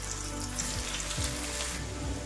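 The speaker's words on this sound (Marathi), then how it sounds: "आता गॅस फुल करायचा आहे पुन्हा आणि आधी सारखीच भेंडी इथं सोडून घ्यायची आहे।" Okra (bhindi) deep-frying in hot oil over a full flame, a second batch cooking until crisp; a steady, close, dense sizzle and bubbling runs throughout with no voices.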